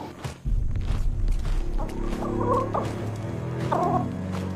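A cartoon rooster in a Hindi-dubbed animated movie gives a couple of short, squawking fowl calls over a bed of soundtrack noise and footsteps.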